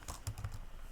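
A quick run of close computer keyboard keystrokes, several crisp clicks in under a second, as code is typed.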